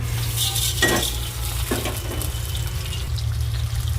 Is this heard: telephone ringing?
no